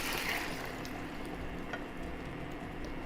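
Beef and broccoli sauce poured into a hot pan, a short sizzling, bubbling liquid hiss, fairly close and continuous without talk.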